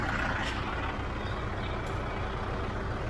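A Kubota 4501 tractor idles with a continuous low, even engine drone close by and no voices.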